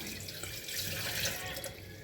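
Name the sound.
water being poured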